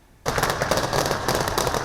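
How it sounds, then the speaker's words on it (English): Rapid bursts of gunfire crackle during street clashes between security forces and opposition supporters in Caracas, a dense loud volley starting abruptly and continuing without pause. "Gunfire and tear gas in Caracas."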